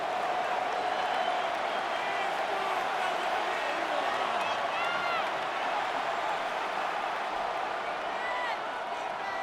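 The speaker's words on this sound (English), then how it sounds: "This crowd into it now as we get to third down." Stadium crowd in the video game Madden 26 during a Detroit Lions vs Chicago Bears football game, a dense continuous roar of cheering spectators with a commentator talking over it.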